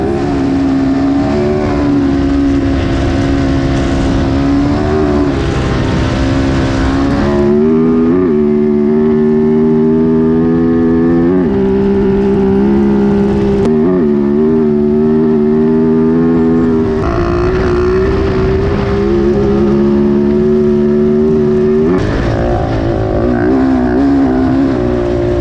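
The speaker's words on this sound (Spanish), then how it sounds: "otra vez a disfrutar del sonido de la moto" A Dakar rally motorcycle engine screams at full throttle, loud and sustained, shifting pitch as it accelerates through gears over a long stretch, recorded on board.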